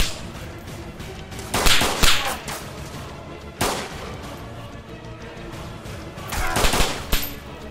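Gunfire in the DayZ Standalone video game: sharp, whip-like rifle cracks come in a few loud clusters with brief quieter gaps, some shots landing close together in quick runs.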